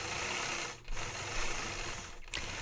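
A long arm quilting machine stitching across a quilt, giving a steady, dense mechanical whir with rapid needle rhythm and two brief dips where the motion slows, close and continuous.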